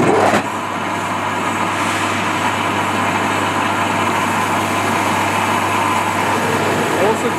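A paddy quality test machine's rice grater starts with a thump, then runs as a loud, steady motorized whir and hum close by, continuing evenly to the end.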